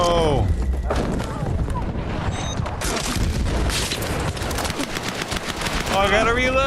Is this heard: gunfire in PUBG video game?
yes